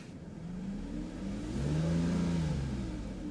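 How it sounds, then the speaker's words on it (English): A car engine revs up as the gas pedal is pressed, a mid-pitched whir that swells in pitch and loudness and then eases off, heard close with no talk. "Now, listen to what happens when we put our foot on the gas."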